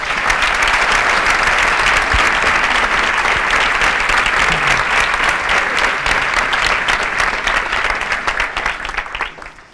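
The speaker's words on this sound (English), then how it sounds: "Applause." Sustained, loud audience applause for the winner of the Aarhus Symposium Award 2015, a dense steady clatter of many hands that holds for nearly ten seconds and thins slightly at the end.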